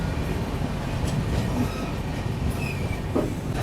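The Guwahati–New Delhi Rajdhani Express pulls out of Mansi Junction with a steady loud rumble of wheels on rails, a faint squeal and light clatter running beneath.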